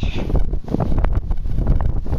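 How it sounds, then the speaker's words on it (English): Steady wind blowing across the microphone in tall-grass prairie, a rough broadband rumble with gusty fluctuations throughout. "It's starting to get a little breezy."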